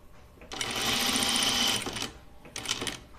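Sewing machine stitching a dress, giving a fast mechanical whir in one sustained run of about a second and a half, then a short pause and a second brief burst, close and clear.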